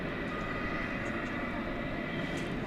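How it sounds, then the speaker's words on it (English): A Boeing 757 jet takes off at DFW Airport at night, its engines a steady, broad roar that holds constant at moderate distance. "it looks like we're going to see a snappy 757 take off here"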